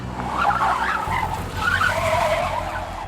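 Truck tires screech and slide across a road as the vehicle swerves into oncoming lanes, a loud continuous squeal rising and falling over rumbling engine noise, close and steady for a few seconds.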